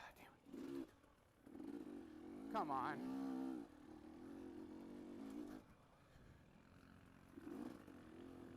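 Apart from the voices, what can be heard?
dirt bike engine lugging during a harescramble race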